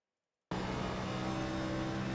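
NASCAR Next Gen race car at Dover in the iRacing video game, its engine cutting in abruptly after a brief silence and holding a steady, loud full-throttle drone.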